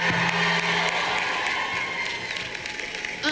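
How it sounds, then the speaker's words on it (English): A large outdoor crowd at a climate strike rally in Denver applauds and cheers, a steady wash of clapping heard from a distance with scattered whoops throughout. "So let's give her a big round of applause."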